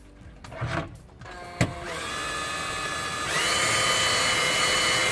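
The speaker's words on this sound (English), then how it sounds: "just got to drill the vent holes" A power drill drills vent holes for a fan in a control panel, spinning up and whining steadily, its motor pitch rising and holding loud and close for several seconds.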